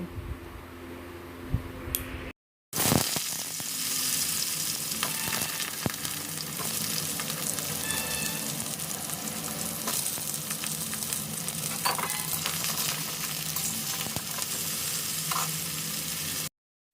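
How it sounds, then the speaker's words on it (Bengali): Potatoes and eggplant fry in a pan with five-spice seeds and dried red chillies. After a brief quieter moment and a short gap, a loud, steady sizzle runs close and continuous with occasional stirring clicks. "এরপর আলু আর বেগুন ফ্রাই করে নেব"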